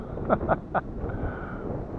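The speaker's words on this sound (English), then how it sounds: "Oh, struggling in that wind." Wind buffets the microphone of a small Hubsan drone flying at Abbots Pool with a steady low rumble, broken early by a few brief louder gusts.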